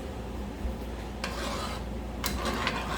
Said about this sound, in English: I'm gonna stir this.